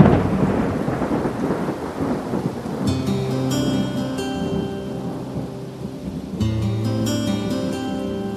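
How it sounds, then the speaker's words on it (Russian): Rain begins outdoors with steady rainfall and deep rolling thunder, joined partway through by sustained musical tones that play over the downpour. "Дождик начинается."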